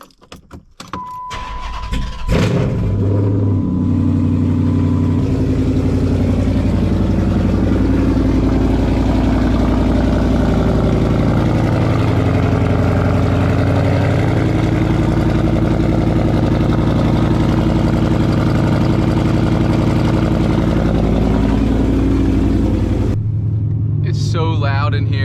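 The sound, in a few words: Dodge SRT8 car engine starting up and idling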